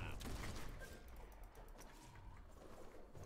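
Rapid gunfire in the action game Biomutant, a quick spray of sharp cracks and clattering shots mixed with metallic mechanical sounds, fairly faint within busy game noise.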